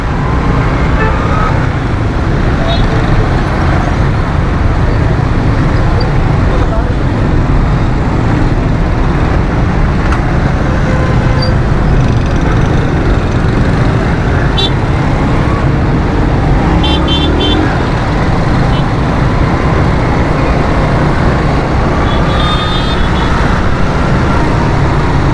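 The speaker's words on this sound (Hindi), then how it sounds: "यहाँ ट्रैफिक ज़्यादा है।" Heavy night traffic on a busy Karachi road, Shahrah-e-Faisal, with a steady dense roar of cars, trucks and buses close by and occasional short horn toots cutting through.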